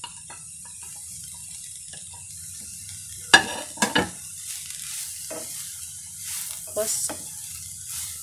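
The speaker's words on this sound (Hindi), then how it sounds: "30-35 सेकंड के लिए हम इसको ही फ्राई कर लेंगे।" Spring onion, capsicum, cabbage and green chilli sizzle steadily in hot oil in a home kitchen, with a few sharp clanks of stirring and a brief spoken word over the frying.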